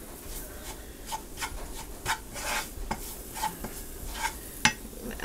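A utensil scrapes and stirs flour through melted butter in a pot, making a roux as the base for broccoli cheese soup, with irregular close rubbing strokes over a faint sizzle.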